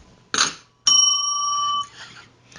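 A single bright bell ding rings out clearly and sustains for about a second before fading, preceded by a short clattering knock, heard alone and close up.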